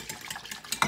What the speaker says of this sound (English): today I'm going to pour this into individual bottles